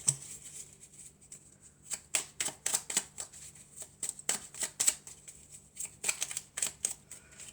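Cards shuffled for a card reading: quick, crisp riffling bursts and soft flicks in an uneven rhythm, close and fairly quiet, with no speech.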